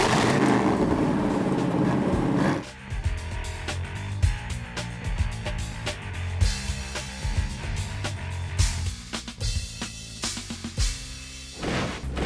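A street rod car's engine running at a rod cruise in Kansas, a loud rough rumble at first that drops after a couple of seconds into uneven idle with sharp clicks and bursts, alone without speech.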